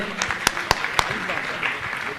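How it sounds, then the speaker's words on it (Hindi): Applause at an Indian religious gathering honouring a gold donor: scattered, fairly light clapping with a few sharp louder claps, heard alongside background voices for a couple of seconds. "जोरदार ताली बजाकर इनका सम्मान करें"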